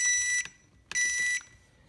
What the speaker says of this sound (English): And you should hear a couple of beeps.